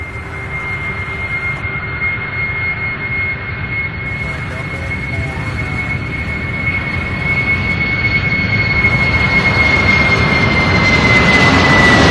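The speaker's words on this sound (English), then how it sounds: "We've got this Queen followed by an MD-11 next." A Boeing 747 and then an MD-11 jet at Louisville airport give a continuous engine roar that builds steadily louder, with a high whine running through it.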